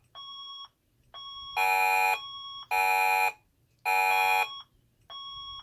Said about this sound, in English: The fire alarm has been activated.